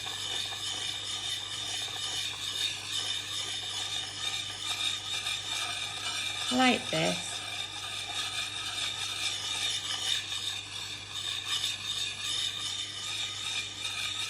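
Billhook blade being sharpened with circular strokes, a continuous faint scraping rasp over steady background hum, with one brief louder scrape midway; a voice speaks briefly.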